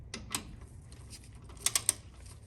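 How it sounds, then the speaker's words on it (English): A torque wrench on a 1/2 inch socket clicking as it reaches set torque while tightening front shock absorber bolts on a 1985 Chevrolet Caprice Classic: a few quick, faint, sharp clicks close by in a quiet garage. "You're going to listen for that torque wrench to click when you have it tight enough, just like that."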